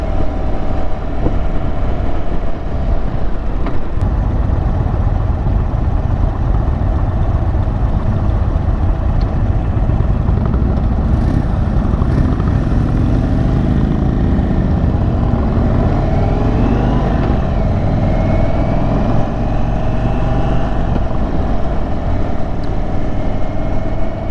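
An Indian Chief motorcycle riding on a street in stop-and-go traffic, its engine rumbling loud and continuous at close range throughout, with a steady low drone and no talk over it.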